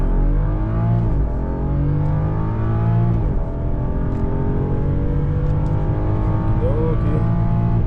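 A BMW with the N55 engine and a Burger Motorsports air intake accelerates hard, its loud engine note climbing through the gears with a brief dip at each shift, sustained and close.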